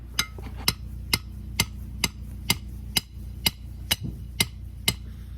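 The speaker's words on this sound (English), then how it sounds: "So I'm trying to lever them up with a spare pin and a hammer through the ring on the pin that's stuck." A hammer strikes a stuck steel mooring pin wedged in a canal bank beside a narrowboat, about eleven sharp metallic blows in a steady, even rhythm, close and clear with no talking.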